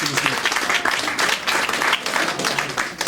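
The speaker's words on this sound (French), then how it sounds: "S'il vous plaît, veuillez applaudir pour lui." Lively, fairly close audience applause honoring an artisan at a Nigerien community event, brisk uneven clapping throughout with a few voices mixed in.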